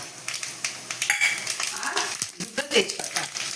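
Panch phoron and dried red chillies crackle and sizzle in hot oil, with short spitting bursts and some utensil clatter close by, busy and irregular.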